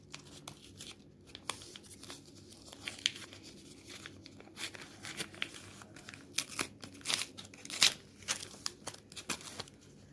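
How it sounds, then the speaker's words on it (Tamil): Cinthol soap's paper wrapper tearing open in a series of close, crisp rips and crinkles spread over about ten seconds, with no talking. "இப்போ இந்த ப்ராடக்ட்டை நான் உங்களுக்கு வந்து ஓப்பன் பண்ணி காட்டுறேன்."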